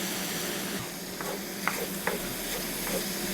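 Garlic sizzles steadily in a hot pan while a utensil stirs it, giving a few distinct scraping strokes over the constant frying hiss.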